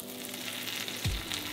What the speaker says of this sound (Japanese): フライパンにオリーブオイルをひいて香ばしく焼き色をつけていく流れです